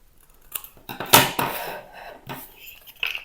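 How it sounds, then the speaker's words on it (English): Scissors cut off the edge of a sheet of paper during an art project, giving a few short snipping and rustling sounds, close and crisp, with a louder cut near the middle. "I'm going to just cut off the edge here"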